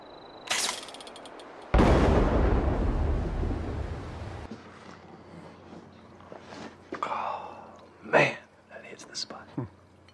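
An explosion from a Quantum grenade with an enlarged blast radius in the video game Fallout 76 arrives as one loud, broad roaring burst that decays over a few seconds, followed by quieter scattered in-game clicks and thuds.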